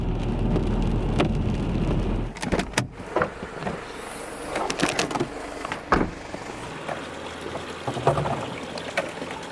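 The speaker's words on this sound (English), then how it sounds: "started coming down so heavily" Dense heavy rain in Portugal roars steadily at first, then breaks into scattered drips and patters with occasional sharp knocks and a brief mechanical whir.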